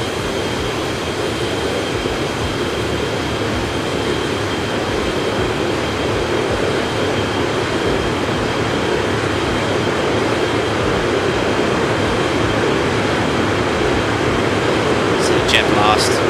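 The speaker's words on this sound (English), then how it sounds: "Jet blast, that's great." A Boeing 737-200 jet engine blasts in the X-Plane 12 flight simulator, a steady, loud, broad roar that holds for about sixteen seconds, with a few faint clicks near the end.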